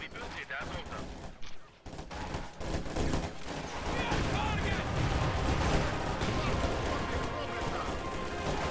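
Squads of soldiers fire rifles and machine guns in a Company of Heroes match, bursts of gunfire rattling continuously alongside explosions and game chatter, loud and dense throughout.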